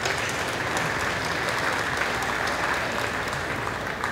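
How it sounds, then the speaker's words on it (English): Steady, dense applause from an audience at a livestock sale of champions, a continuous wash of clapping hands filling the whole stretch at an even level. "Again, a round of applause for Monsanto, Elite Swine Programs Incorporated, and Wheeler Auctions and Real Estate out of Paris"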